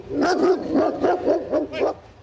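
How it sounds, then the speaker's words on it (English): A hostile guard dog at a home barks in a quick run of about five sharp, loud, close barks, evenly spaced and heard alone. "The dog took a bite out of my coat before Perot's son Arvil tied him up"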